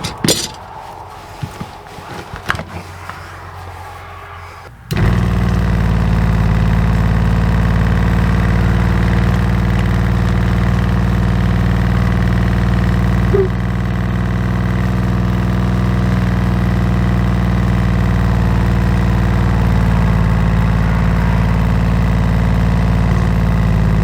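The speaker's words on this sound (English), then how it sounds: "Okay, the pump's working just fine." Water pump running steadily and building pressure, a loud, close, continuous motor hum with a constant drone, preceded by a few seconds of clattering handling noise before it starts.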